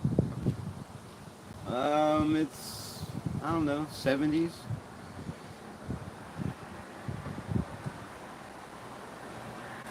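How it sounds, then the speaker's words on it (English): Strong outdoor wind buffeting a microphone, rumbling gusts and low roar throughout, with someone talking briefly over it. "The wind's blowing like hell out here."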